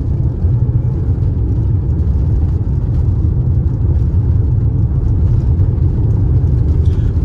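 A 2021 Fiat Toro Ranch 4x4 diesel drives steadily, its engine giving a loud, continuous low rumble heard from inside the cab with no talk.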